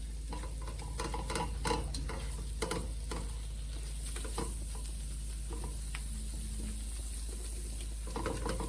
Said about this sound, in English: Just keep stirring it a bit.